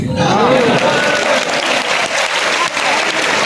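Loud, sustained applause from a large crowd at a political rally in Bahraich, clapping filling the whole stretch.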